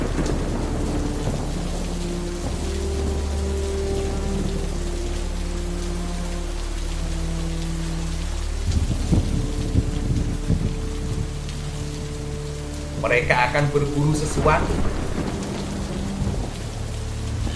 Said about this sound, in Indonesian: Tetapi hujan terlalu deras.